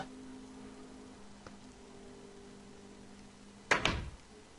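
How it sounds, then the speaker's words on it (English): A Minecraft door worked by a redstone lock gives a single short, crisp wooden clack near the end, after a stretch of quiet background noise. "Door opens. And door closes."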